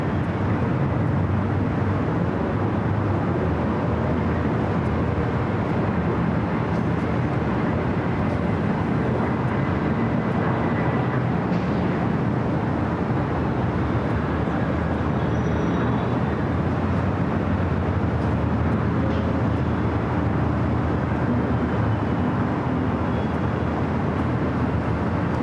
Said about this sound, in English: Got that NetJet Cessna coming in from San Jose